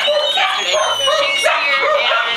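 Dogs at an animal shelter barking and yelping loudly, several overlapping close-up barks and whines filling the space continuously.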